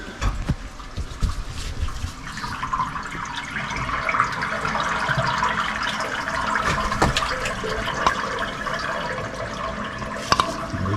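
A toilet flushes while a bathtub drains in a 110-year-old home with a fully backed-up, blocked drain, producing a continuous, fairly loud rush and gurgle of water that holds steady for about eleven seconds, close by and with no talking.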